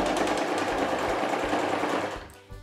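A sewing machine runs steadily and fast, stitching a rug made from old clothes, a loud continuous whirring drone that winds down just before the end.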